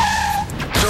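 Car tyres skid under hard braking in a Duralast brakes advert, a brief loud squeal over an engine rumble that ends in a sharp burst.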